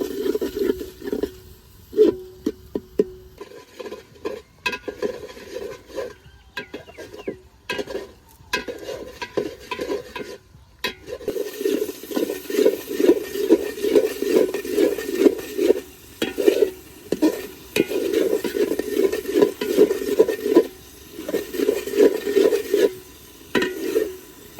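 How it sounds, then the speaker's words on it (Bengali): Spice paste for bhuna khichuri being stir-fried in a pan in a village kitchen, with steady sizzling and frying broken by scrapes and knocks of a spoon against the pot, growing louder and denser partway through. "মশলাটাকে ভালো করে কষে দিব।"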